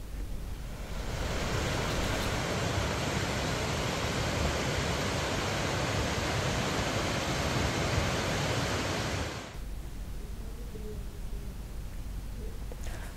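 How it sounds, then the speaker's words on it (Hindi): Roaring waterfall along the road to Zemithang in Tawang district, a steady loud broadband rush of falling water that runs unbroken for about nine seconds, then cuts to a quieter background hiss. "तवांग जिले के जेमीथांग के रास्ते में नजर आने वाले इस वाटरफॉल की खूबसूरती का"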